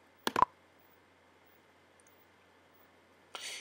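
Two or three quick, faint computer mouse clicks sound close together near the start, followed by a quiet pause and then a soft brief rustle at the end.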